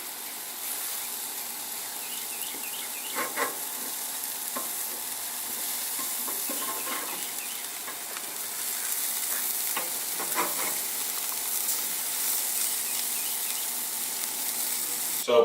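Jerk lamb and beef burgers sizzle steadily on a hot grill grate, a bright continuous hiss with a few soft scrapes and taps as the patties are flipped, no talking.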